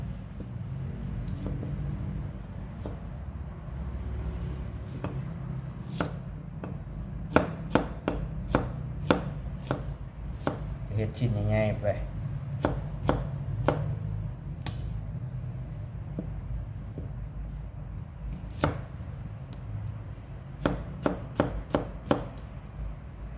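A knife chops herbs on a cutting board in irregular bursts of sharp, close taps over a steady low background rumble.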